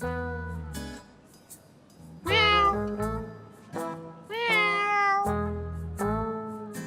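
A voice imitates a cat, giving several drawn-out meows in a row with short pauses, close and fairly loud.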